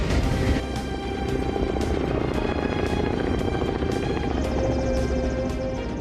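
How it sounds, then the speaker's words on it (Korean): A firefighting helicopter spraying water over a wildfire, carrying about 3,000 liters of water, flies overhead with a loud, steady rotor and engine roar that fills the whole stretch without a break. "시원한 물줄기를 뿜으며 헬기가 상공을 가릅니다."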